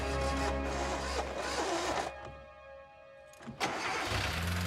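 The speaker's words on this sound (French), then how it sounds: "Démarrer et actionner le turbo," A car engine cranks and catches, then revs up in a loud surge, cuts to a brief lull, and roars again near and alone, a dramatic film sound effect for a getaway car.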